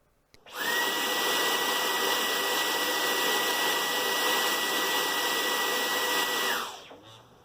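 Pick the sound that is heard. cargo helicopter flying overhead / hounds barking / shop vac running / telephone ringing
shop vac running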